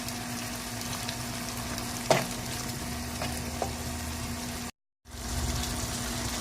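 Mullet fish stir-frying in a hot pan with chili, ginger and kaffir lime leaves gives a steady close sizzle, broken by a few scraping stirs and a short silent gap, with no talk.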